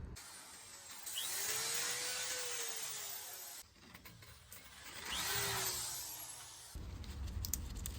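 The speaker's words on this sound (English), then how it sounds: "for the parts I couldn't get to with the wire wheel, I'm going to go ahead and sand them" Rusty engine bay parts of a project car are sanded in two long passes, a close rasping hiss with a rising and falling tool whine and short gaps, fairly quiet with no talk.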